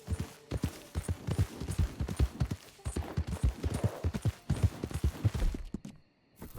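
A horse galloping in Red Dead Redemption 2, its hooves striking in a quick, steady clip-clop rhythm at close range that carries on for several seconds before dropping out briefly near the end.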